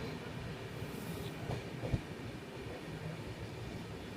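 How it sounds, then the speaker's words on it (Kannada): A passenger train pulling out of Alnavar Junction rumbles steadily from inside a carriage, with a low continuous roll and a few faint wheel clicks, no voices heard. "ನಮ್ಮ ಟ್ರೈನ್ ಆಳ್ನಾವರ ಜಂಕ್ಷನಿಂದ ಹೊರಟಿದೆ"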